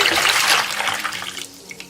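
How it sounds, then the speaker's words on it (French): Warm water, about three litres, pours into a basin with a broad splashing rush that tapers off, followed by a few faint drips and trickles. "Verse 3 litres d'eau que tu as préalablement chauffée."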